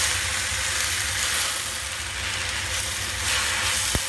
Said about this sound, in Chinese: 咁而家慢慢將個菜炒，炒到個葉咧就軟身